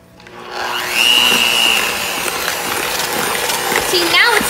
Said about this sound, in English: we're gonna quickly mix